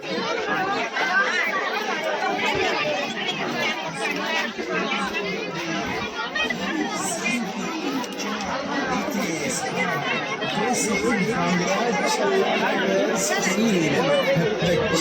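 A dense crowd of pilgrims on the way up Mahadev hill fills the air with continuous, overlapping chatter. Many voices merge into a loud, unbroken murmur that stays close and steady throughout.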